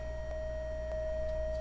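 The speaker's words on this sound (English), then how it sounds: "Look how it moves when you combine a trapezoid with a sine wave." A Waldorf Blofeld synthesizer sounds a steady sustained tone that blends trapezoid and sine waveforms, holding one pitch alone for the whole moment.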